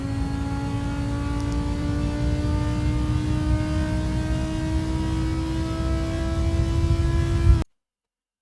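An Audi R8 GT4 engine at full throttle in Assetto Corsa on the Vallelunga track, a loud sustained rising roar that climbs steadily in pitch through the gear before cutting off abruptly near the end.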